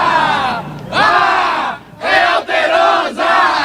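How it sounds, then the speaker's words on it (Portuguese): Cruzeiro football fans chant in unison at Mineirão stadium, a loud, close crowd roaring in rhythmic surges with brief dips between the bursts of chanting. "Tô aqui no meio da torcida."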